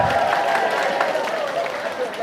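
An audience claps together at an Islamic religious lecture for Isra' Mi'raj in Sendang Asih, giving a steady, dense burst of applause that lasts about two seconds, with a voice faintly mixed in.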